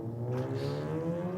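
A Holden V6 Commodore engine revs at a race track, a steady, fairly close harmonic drone with rising tone, heard alone.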